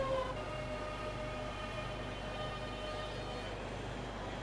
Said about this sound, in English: Oh, do I hear 465? I do.